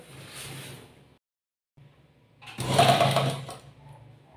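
A sewing machine stitches a salwar pant in two bursts, a short faint run then a louder, longer whir after a pause, with quiet handling in between.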